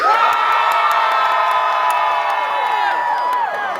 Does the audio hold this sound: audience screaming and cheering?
yes